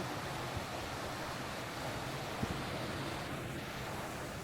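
Water from a hidden waterfall in Gaspé, Québec, rushes in a steady, broad hiss with wind noise mixed in, heard from nearby without any talking.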